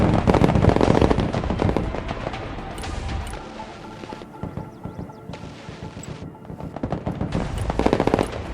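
Combat gunfire in the Broken Arrow war game, dense and continuous, with rapid bursts of shots and crashing impacts layered together, loud throughout and swelling again near the end.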